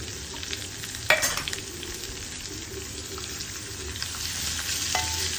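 Sliced large onions and freshly grated coconut sauté in hot oil and ghee, giving a continuous sizzling hiss with occasional stirring scrapes of a spoon in the pan, close and steady throughout.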